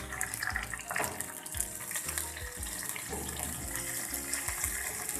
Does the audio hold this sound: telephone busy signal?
no